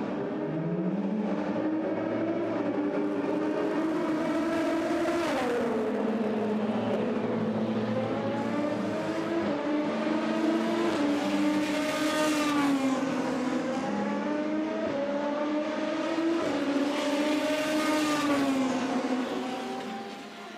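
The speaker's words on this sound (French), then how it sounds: "Il a pu repartir Christian Ried avec la Porsche d'MC Proton Racing numéro 77." Porsche race car lapping during the 24 Hours of Le Mans endurance race, sustained high engine whine rising and falling through gear changes, loud and continuous with no talk.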